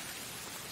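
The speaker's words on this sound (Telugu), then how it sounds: "వర్షం కదా?" Steady, even rain falls throughout, a soft continuous hiss at low level with no voices and no distinct drops standing out.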